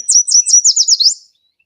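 Loud, close yellow warbler song played from a phone app: a series of high, sweet whistled notes speeding into a quick flourish, then silence.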